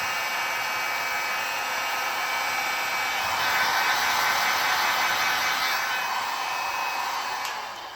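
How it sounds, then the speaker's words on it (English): A heat gun set on low blows a steady, loud broadband hiss while warming vinyl arcade artwork, continuous throughout and swelling slightly midway, with no talking. "When we put the heat gun on low, well, I got a heat gun, but you can use a hair dryer."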